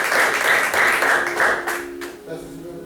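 A church congregation applauds during a Spanish-language sermon, a dense wash of many hands clapping that fades out into a sustained tone.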